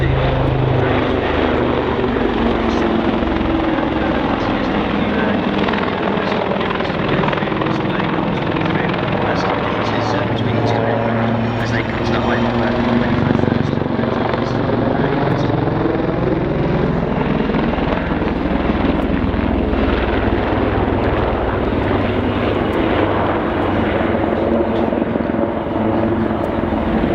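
Royal Navy Black Cats Wildcat helicopters fly a display at Waddington Airshow, their loud, steady rotor thump and turbine roar continuous throughout, with an announcer's voice over the public address underneath.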